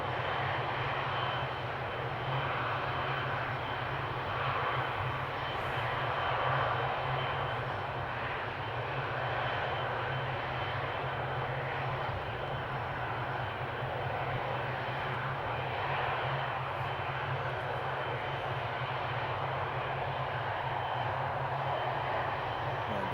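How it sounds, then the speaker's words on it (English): Airliner jet engines rumble without pause at Amsterdam Schiphol airport, a broad steady roar with a low hum held through the whole stretch, no voices over it. "The 7-3 is about to roll, so that means we're going to see the 777 taxi."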